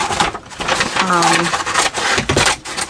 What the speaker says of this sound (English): Sorry for the noise this bag makes,